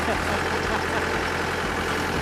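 A tractor engine rumbles steadily and loudly up close on an Italian roadside, a continuous low idling drone with broad noise and voices mixed underneath.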